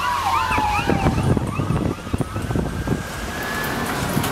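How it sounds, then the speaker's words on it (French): Emergency sirens wail through a town in the aftermath of a tornado, rising and falling tones overlapping near and far, with a loud, steady wind-like rush and street noise beneath. "Les sirènes retentissent dans toute la ville"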